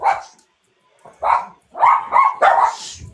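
A dog barks in several loud, close bursts, first as a single bark and then as a quick cluster of three, with short silent gaps between them.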